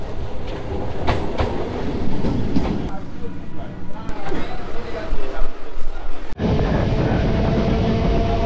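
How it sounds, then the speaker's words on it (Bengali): Local train running from Howrah toward Tarakeswar, a steady rumble and clatter of carriages throughout with a voice talking over it, the tone shifting abruptly near the end. "হাওড়ার থেকেই লোকাল ট্রেনে যাব তারকেশ্বর"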